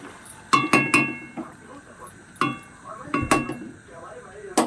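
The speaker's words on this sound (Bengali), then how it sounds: "আমি একটা পাত্রের মধ্যে ঢেলে নিচ্ছি" Dishes and a serving pot clinking as prawn and vegetable curry is poured in, several sharp metallic clinks spaced apart over quiet background.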